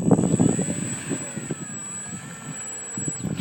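FMS Cessna big-scale model airplane engine running steadily with a constant high-pitched whine and a low buzzing drone, heard close and fairly loud with no speech.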